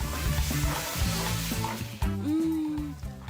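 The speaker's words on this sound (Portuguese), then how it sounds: "É preciso mexer sem parar, para não perder o ponto da massa." A sweet dough of condensed milk and a crumbly mixture is stirred nonstop in a pan on the stove, giving steady scraping and stirring under a continuous sizzle, close and fairly loud.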